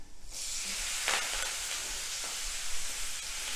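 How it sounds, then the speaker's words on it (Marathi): Curry leaves with asafoetida and turmeric sizzling in hot oil for poha chivda, a soft steady hiss with a couple of brief stirring scrapes, no talking. "हे सगळं छान कढीपत्ता कुरकुरीत होऊपर्यंत भाजून घ्यायचं"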